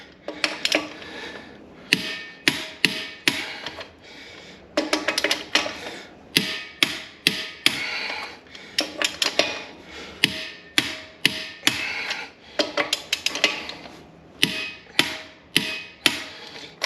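A torque wrench tightens lug nuts on a Jeep Gladiator wheel, with repeated sharp metallic clicks coming in quick bursts and pauses, close and loud, no talking.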